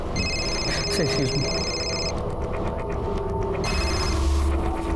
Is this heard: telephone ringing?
yes